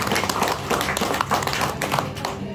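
An audience claps for Pak Kasino at a business gathering, a dense patter of many hands sustained evenly throughout at moderate loudness.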